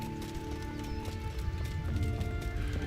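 Horse hooves clip-clop at a steady walking pace in the medieval game Kingdom Come: Deliverance, fairly faint and close, with a low ambient hum and no talking.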